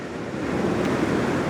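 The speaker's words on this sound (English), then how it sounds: "this breakwater is doing a cracking job of stopping the waves coming in" Ocean surf breaking against a harbour breakwater on the Devon coast, a steady close rushing wash that swells slightly louder and stays continuous with wind noise and no voices.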